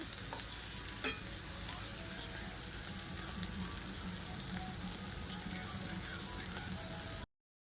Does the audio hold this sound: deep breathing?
no